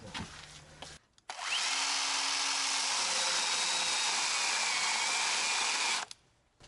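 A chainsaw with a slack chain that is barely cutting runs for about five seconds, a loud, steady, high-pitched whine that starts and cuts off abruptly, with quieter sounds before and after.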